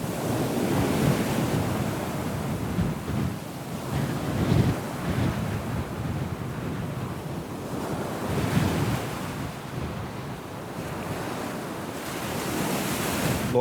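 Ocean waves roll onto the beach at Itaúnas, Brazil, a steady wash of surf with soft swells every few seconds, mixed with wind buffeting the microphone; no voices.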